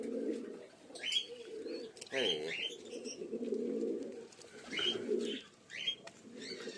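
Pigeons in a breeding loft that holds Giribaz and fantail birds coo in repeated low, throaty phrases mixed with light chirps, close by, while someone speaks briefly at one point.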